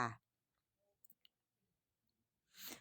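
A computer mouse clicks a few times while a government welfare website is being browsed, giving quiet, brief clicks in near silence between bits of a nearby voice.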